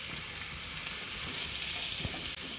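Onion dropped into ginger and garlic frying in a pan, a dense close sizzle with a few soft stirring clicks, steady and loud throughout.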